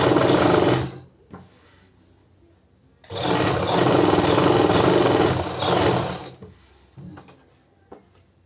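A sewing machine stitches the lining of a pleated suit in two long, loud, steady runs separated by a quiet pause with a few mechanical clicks, ending with scattered clunks.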